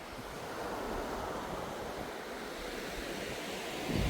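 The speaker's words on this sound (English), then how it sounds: "We are directly on the sea." Steady wash of sea waves breaking on a beach in Phetchaburi, Thailand, a continuous broadband roar with wind buffeting the microphone and no voices.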